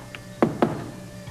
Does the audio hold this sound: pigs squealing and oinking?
no